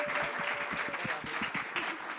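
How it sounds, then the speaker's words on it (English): A room of listeners at an entertainment panel gives a round of applause, a moderate, steady patter of clapping through the whole moment. "Can we give them a round of applause?"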